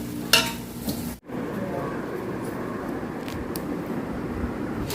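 Biryani masala with mint and coriander being sautéed in a pan, a soft steady sizzle with stirring and a few utensil clinks near the start, a brief cut partway, then continuous frying.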